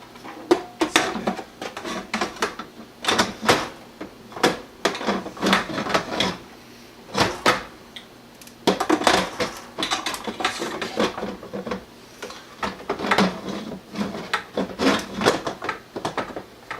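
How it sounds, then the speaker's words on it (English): A pressure cooker lid is fitted onto an air fryer, producing a run of hard plastic and metal clunks, clicks and scrapes, close and irregular, across many seconds with short pauses. "you place the pressure cooking lid"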